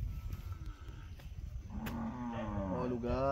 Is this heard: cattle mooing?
yes